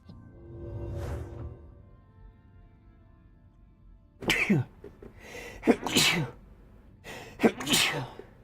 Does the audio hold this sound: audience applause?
no